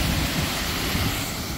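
Ethipothala waterfall, a steep cascade, roars as a steady, loud, broadband rush of falling water, continuous and alone without voices.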